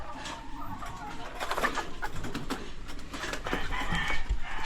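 Four live chickens waiting for delivery give off soft clucks and coos close by. Rustling and handling noises run underneath in a cluttered outdoor setting.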